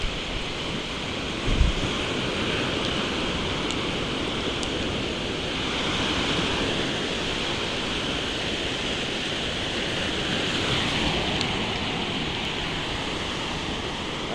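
Seawater washing up on a stony shoreline in a steady, unbroken wash of surf, with a soft gust of wind buffeting the microphone early on and no voices.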